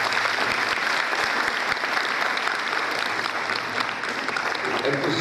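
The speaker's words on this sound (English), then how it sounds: "Please give a big hand of applause to them." Sustained applause from a large audience, a dense steady wash of clapping filling the room without letup.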